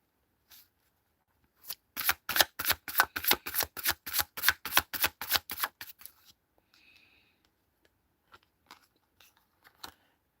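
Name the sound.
shuffling tarot cards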